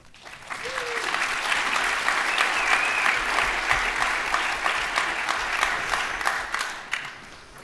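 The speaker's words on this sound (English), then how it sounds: "Please take a moment and give yourselves a round of applause." Graduates and guests at a nursing school pinning ceremony break into applause, swelling quickly into steady, sustained clapping from a large crowd with faint cheers mixed in, lasting several seconds before tapering off.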